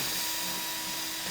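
A small drill bit boring into a residential deadbolt lock, a steady high-pitched whining grind held at constant pitch through a short burst, close and without voices.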